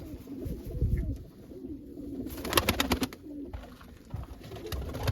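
Pigeons coo softly in a coop, low murmuring calls repeating over steady background rustle, no voices.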